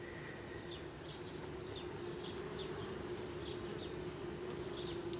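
Honey bees buzz around a hive in a steady, close drone, with individual bees flying past now and then over the constant hum.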